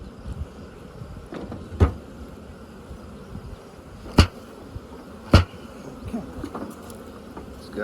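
A large, healthy honeybee colony at the hive, buzzing steadily in the background, with a few sharp knocks from the hive box.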